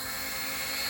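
The motors of a Blade 720 Pro drone whine steadily at close range as it powers up and hovers, a dense, even buzz with high-pitched tonal layers, briefly and without talk.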